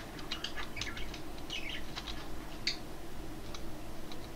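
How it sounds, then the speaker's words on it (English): Keys on a computer keyboard are pressed in a quick, irregular series of light clicks over a steady background hum while playing modded Minecraft. "First thing I'm going to do is press all my keyboard buttons"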